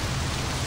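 Steady rain in the video game Saints Row 2, a dense, even hiss with a low rumbling undertone, continuous and alone for a brief moment.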